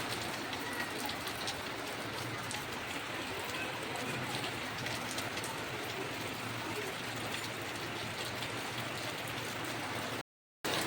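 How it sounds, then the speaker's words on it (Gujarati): Heavy rain pours down in a dense, steady roar of drops pattering on surfaces, constant and loud throughout, with a brief gap near the end and no talk. "तो गाइस बारिश एकदम बढ़ गई."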